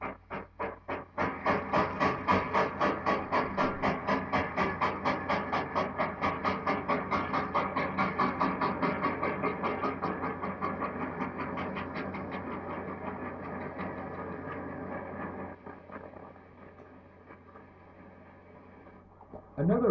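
A 1960s train on the West Lancashire line, hauled by locomotive 42662, rolls up to a station platform with steady rhythmic wheel clatter and chuffing that gradually fades and slows, heard from nearby without talk.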